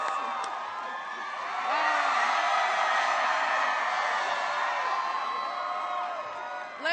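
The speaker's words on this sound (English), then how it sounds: "Let's give them all a round of applause." A large crowd at a political rally in Columbus, Ohio, cheers and whoops continuously, with sustained roaring noise and scattered shouts swelling in the middle and fading slightly toward the end.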